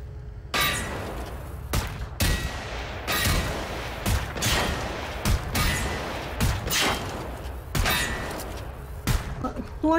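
Gunfire in Generation Zero, loud bursts and single shots fired in an irregular rhythm, some close and sharp, over a constant bed of game noise.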